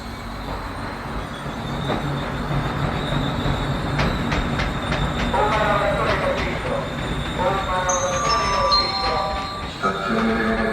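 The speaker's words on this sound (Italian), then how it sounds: "il treno E656 per Tivoli è in partenza al terzo binario" E656 electric train departing a station platform, with a steady rumble of moving rail cars, rhythmic wheel clicks and high squealing tones building toward the end, heard up close under a platform announcement.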